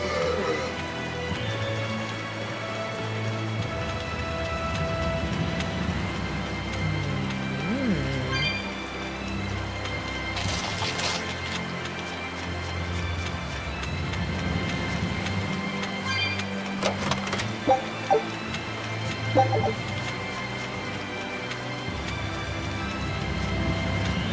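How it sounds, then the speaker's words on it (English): Steady rain falls in the video game Tales of Berseria, a continuous soft hiss that runs the whole time. Other game sounds and voices mix faintly into the rainy background. "I really like the rain sounds. It's so relaxing."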